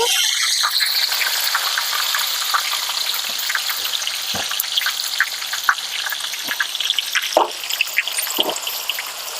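Sliced onions sizzle steadily in a hot pan of oil, a close, bright crackle with scattered pops and occasional stirring clinks, with no talking.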